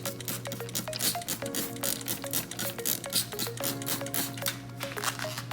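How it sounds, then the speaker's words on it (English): A spray bottle mists water over potting mix sown with lettuce seed indoors, giving a quick run of soft hissing spurts and trigger clicks at close range, with a faint background tone and no talking. "Now we're gonna spray water on top to make sure that it's moist."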